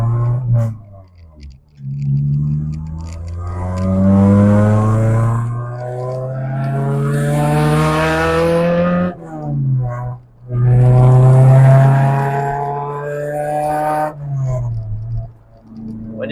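A Honda S2000 engine revs high toward its 9,000 rpm redline, a strong rising harmonic whine that climbs repeatedly, drops briefly on shifts, then climbs again. It is loud and close, with no talk.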